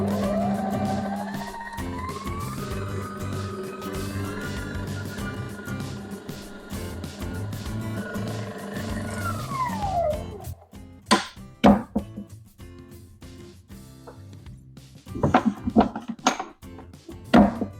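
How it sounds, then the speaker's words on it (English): Stand mixer whipping cream into butter, a steady motor whine that drops in pitch as the speed is reduced, then gives way to uneven slapping and knocking as the butter separates. "reduce the speed on your stand mixer to make sure you don't damage it from when the butter goes to separate"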